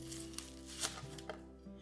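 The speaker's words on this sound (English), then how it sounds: "you wanna start chopping up your pico de gallo ingredients" A knife chopping pico de gallo ingredients taps on a cutting board a few times, soft irregular chops over a low steady hum.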